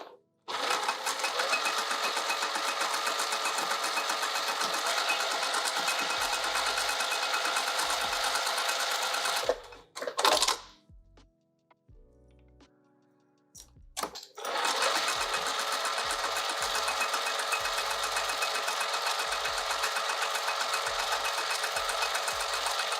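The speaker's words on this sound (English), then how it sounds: "let's sew this down." A sewing machine runs fast and steadily while stitching down a fabric pocket on a pouch, pausing briefly midway with a few clicks and handling sounds before it resumes at full speed.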